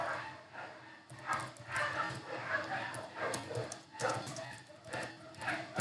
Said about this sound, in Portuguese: Tem alguns cachorrinhos aí na volta latindo